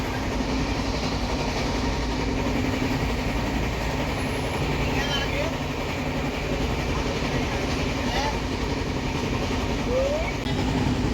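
A passenger train runs steadily, heard from inside a carriage, with a loud continuous rumble and rattle throughout and occasional faint squeaks.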